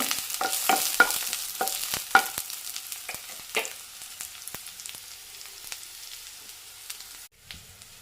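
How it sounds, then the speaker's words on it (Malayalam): Green chilies, onion and curry leaves sizzle in hot oil in a pan for an okra curry, with a series of sharp scraping stirs early on that thin out, leaving a quieter frying hiss. "പച്ചമുളക് കറിവേപ്പില എല്ലാം ഇട്ട് കൊടുക്കാം ഇട്ട് കൊടുക്കും ഒന്നിളക്കി കൊടുക്കണം"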